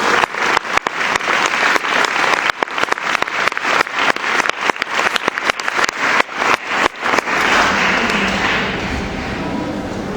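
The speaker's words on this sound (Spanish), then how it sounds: "Demos un aplauso grande a nuestro Señor." A church congregation claps in a burst of loud, dense applause during a worship service, the sharp rapid claps continuing for several seconds before thinning into a softer crowd wash.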